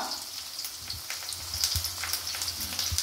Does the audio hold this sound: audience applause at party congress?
no